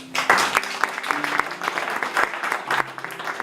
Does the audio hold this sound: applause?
yes